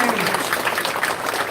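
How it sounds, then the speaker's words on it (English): An audience at a U.S. congressional campaign event applauds, with dense, steady clapping throughout a brief stretch. "Round of applause for Phong, President Phong Dhau"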